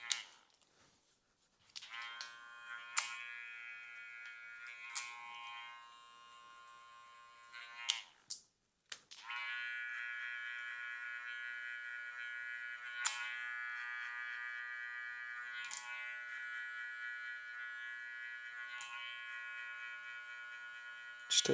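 Electric hair trimmer buzzing steadily as it cuts a men's fade, a near, continuous hum with brief pauses and restarts as the clippers move over the head.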